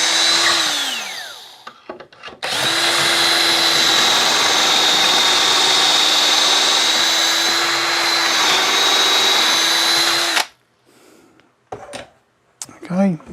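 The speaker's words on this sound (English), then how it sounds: "So you drill it until you get down to the collar," Power drill boring pocket holes through a Trend PH/JIG pocket hole jig, a loud steady whine running about eight seconds with a brief start before it, then quiet handling noises afterward.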